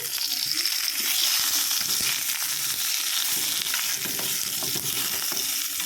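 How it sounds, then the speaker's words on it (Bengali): Eggplant frying in a wok produces a loud, dense crackling sizzle that carries on steadily throughout, with faint stirring noises mixed in. "এখানে এই যে বেগুন ভাজাটাও বসিয়ে দিয়েছি"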